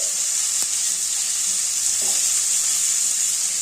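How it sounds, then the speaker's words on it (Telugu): Constant close sizzle of onions frying in oil in a covered pan without water, with a couple of faint clicks; no talking. "వాటర్ వేయకుండా మూత పెట్టుకొని వేయించుకోండి"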